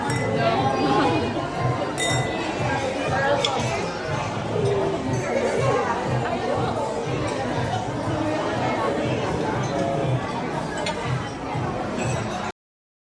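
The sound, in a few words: glasses clinking in a birthday toast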